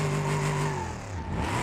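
A car engine in BeamNG.drive with damaged rod bearings, running loud and revving briefly, its pitch sliding downward as the revs drop back toward a low rumble.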